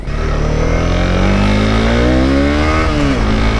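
A Honda CB 250 R motorcycle engine revs up, its exhaust note rising in pitch then dropping as the throttle closes, loud and close.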